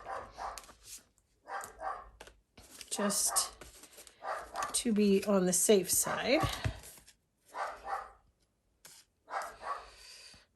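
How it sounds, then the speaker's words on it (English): A nearby dog barks and whines in bursts, mixed with a person speaking at close range. "Sorry about my dogs barking in the background"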